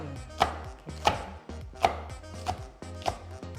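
A knife chopping green chili peppers on a board, about five firm, evenly spaced cuts ringing out close and clear with no talk.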